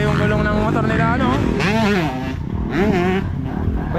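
Racing motorcycles in a youth category on a muddy track drone and rev continuously, engines rising and falling, under a commentator's excited talk throughout.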